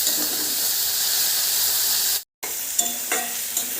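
Chopped onion and tomato fry in a pan with a loud, continuous sizzle and hiss. After a brief cut, the sizzle returns slightly softer, with a few stirring scrapes and clicks.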